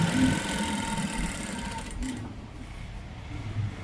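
A sewing machine stitches along the neckline of a blouse, giving a steady, close mechanical whir with a rhythmic needle chatter that briefly pauses and then resumes at a lower level.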